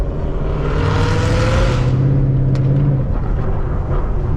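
Supercharged Mustang with a Whipple 3-liter blower on a downtown Detroit street, its engine revving loud and close in a rising then falling rumbling roar with a brief sharp crack near the end, no voices.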